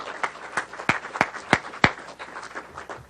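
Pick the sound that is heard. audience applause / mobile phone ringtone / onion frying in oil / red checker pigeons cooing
audience applause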